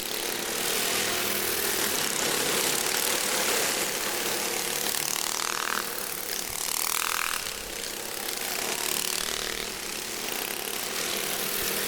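Backyard go-kart engines buzz steadily at a distance during a 15-lap heat race on a track, with a continuous rough drone that swells and fades as the karts pass, with no voices.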